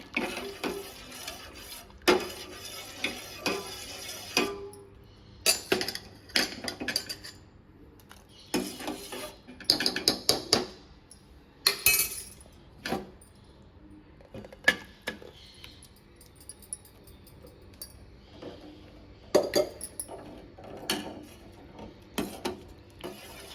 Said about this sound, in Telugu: ఉడకబెట్టిన అన్నం కొంచెం కొంచెం వేసుకుంటూ ఇలా కలుపుతూ ఉండాలన్నమాట